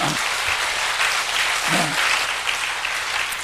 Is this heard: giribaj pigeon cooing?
no